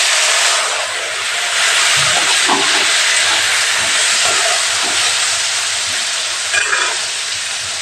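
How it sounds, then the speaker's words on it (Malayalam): Okra and drumstick pieces with chili sauté in a hot pan with mustard seeds, giving a steady, close sizzling hiss that holds evenly throughout with faint stirring scrapes, no talking. "അത് സംഭവം വഴറ്റട്ടെ."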